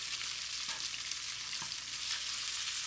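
Pork stir-frying in a pan with celery gives a steady, bright sizzle throughout, broken by a couple of soft scrapes of stirring.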